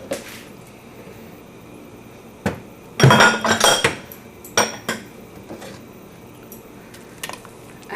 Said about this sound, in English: And I keep stirring it till it separates.